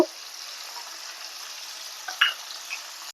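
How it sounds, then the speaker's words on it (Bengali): Pomfret fish frying in a pan give a soft, even sizzling hiss that stays fairly quiet, with a couple of brief sharper crackles near the end. "মাছগুলোকে আমি একে একে ভেজে নেবো"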